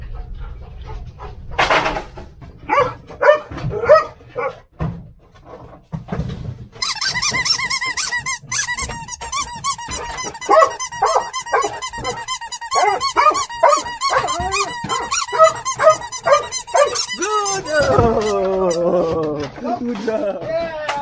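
A Taiwanese firefighters' search and rescue dog barks repeatedly at close range in rapid, insistent bursts, mixed with squeaky toy sounds and people talking.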